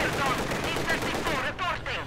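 MG42 machine guns firing in the Company of Heroes 2 video game, continuous rattling bursts with a brief break near the end, mixed with other battle noise.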